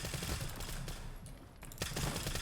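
Submachine gun firing in the video game Stalker 2: dense, rapid bursts of automatic fire crackle loudly, briefly pausing mid-way before another rattling burst resumes.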